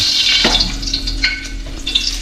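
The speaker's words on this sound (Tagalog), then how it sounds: "Gisa na natin yung ating bawang tsaka luya." Oil crackles and sizzles in a pan as garlic and ginger sauté, close up, with a clink and light stirring scrapes over the steady hiss.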